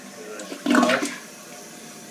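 A toilet with a push-pull ball-valve water shutoff being flushed, a short, close burst of rushing, gurgling water that swells and then settles into a quieter trickle.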